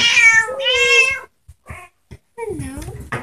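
Several high, drawn-out meows from kittens about six weeks old come close together at the start, then softer chirps and one more meow after a brief pause, with a voice nearby.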